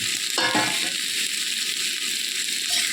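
Fried potatoes and spices sizzle in a pan for a tinda recipe, with a brief scraping stir near the start, then a continuous close, even frying hiss.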